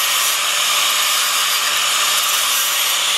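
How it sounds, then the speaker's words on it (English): A flap disc grinding across the edge of a metal plate, a loud, steady, bright whooshing grind held unbroken at close range, with no talking. "take your flap disc and go across here and across here"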